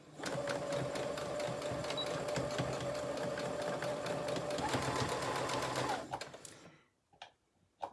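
Sewing machine stitching over elastic on a fabric face mask, running fast and steady for about six seconds, then stopping, followed by a few faint clicks.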